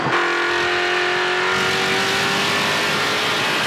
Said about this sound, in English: LP drives to the bottom to avoid contact as we ride on board Simone's #1.